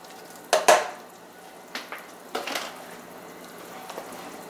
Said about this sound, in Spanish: Voy a agregar mi brócoli